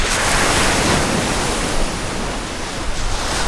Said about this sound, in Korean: 파도가 세네.